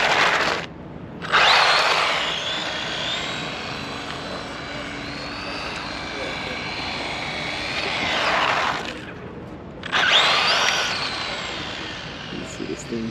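A Traxxas Mini Slash RC car's electric motor screams at full throttle on a desert run. There are two long, loud high-pitched whining bursts with a short gap between them, and a brief pause before a final rise.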